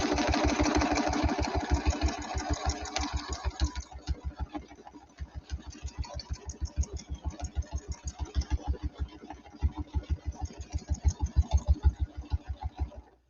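A sewing machine stitches quilt blocks in a fast, even run of needle strokes, then slows into distinct rhythmic pulses with brief pauses as it stops and restarts, close and alone.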